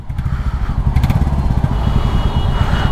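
A Classic motorcycle engine thumps steadily while riding, a loud, close, low pulsing beat with some clatter, running continuously without talk.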